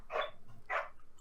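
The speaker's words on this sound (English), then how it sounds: "God damn it, dogs, shut up." Dogs bark twice, two quick, fairly loud woofs about half a second apart, with no other sound around them.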